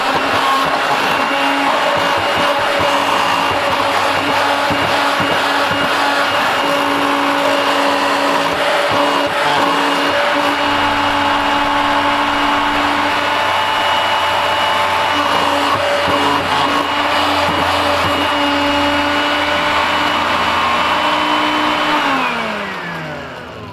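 A cheap yard sale blender grinds plastic IC chips, a loud steady whining motor roar with rattling grit that runs continuously, then winds down near the end.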